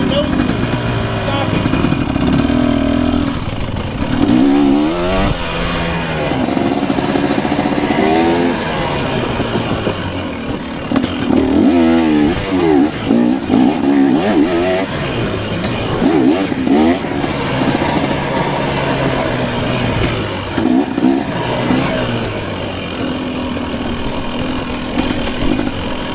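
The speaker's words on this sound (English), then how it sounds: "I'm gonna do a wheelie right here." Dirt bike engine revving hard during a wheelie at a sprint enduro race, loud and close with rising and falling pitch sweeps and steady drone throughout, while a rider talks over it.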